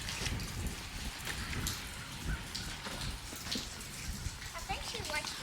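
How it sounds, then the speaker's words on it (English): Rain falling steadily outdoors on a windy, mild day, a continuous patter of drops under intermittent nearby talking. "Well, the good thing is we're getting rain."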